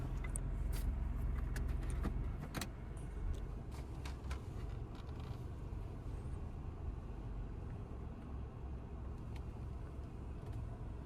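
A truck eases into a parking spot at a Qatar worker camp, its engine a low steady rumble throughout with a few brief clinks and knocks early on, no voices.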